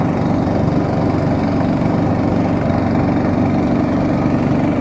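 Steady, loud boat motor drones continuously while the boat heads upriver against the current during a missionary trip in Ashaninka territory. The low engine hum is close and unbroken, with no talk.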